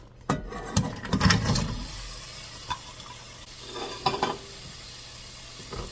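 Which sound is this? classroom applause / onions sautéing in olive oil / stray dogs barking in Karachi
onions sautéing in olive oil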